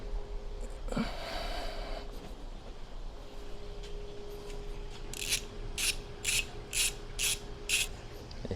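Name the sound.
ratchet tightening bolts on car wing risers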